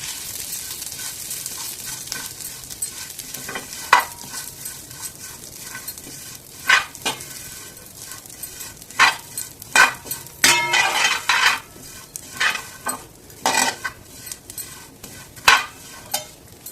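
Vermicelli (semiya) roasting in ghee in a pan while a spatula stirs it, a soft background sizzle broken by repeated scraping and clanking strokes at irregular intervals, close by.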